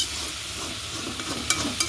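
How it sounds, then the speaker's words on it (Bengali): Spices moistened with a little water are stirred in a pan that earlier fried potatoes, a soft scraping and wet sizzle running steadily with a couple of sharper scrapes near the end. "সামান্য জল দিয়ে নেড়ে চেড়ে তারপর ঢাকা দিয়ে দেবো"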